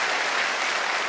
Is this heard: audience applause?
yes